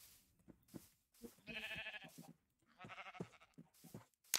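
Sheep in the Minecraft video game bleat in several short, wavering calls, two longer bleats standing out among softer ones, fairly quiet and without talk over them.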